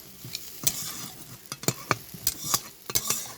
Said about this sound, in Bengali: নামানোর পরেই আমরা কারি পাতাটা ওর সঙ্গে মিশিয়ে দেবো